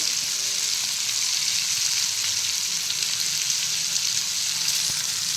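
Fish fillets fry in hot oil in a pan after being turned, producing a loud, continuous close-up sizzle and crackle that holds steady throughout with no talking.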